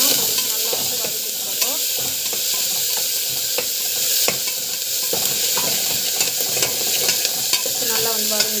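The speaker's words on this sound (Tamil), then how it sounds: "பூண்டு போட்டுட்டு நல்லா வந்து வதக்கிட்டு" Garlic and chana dal sauté in a hot pan, giving a steady sizzle and hiss with repeated scraping stir strokes, close and continuous with no talking.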